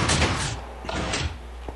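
A 3x3 piston door closing in Minecraft, heard as a burst of mechanical thumps and hisses followed by a second, smaller clunk cluster and a short final knock, fairly loud with no talking.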